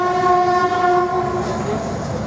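A train horn blares loud and sustained for about two seconds, a steady close tone over the low rumble of rolling railcars.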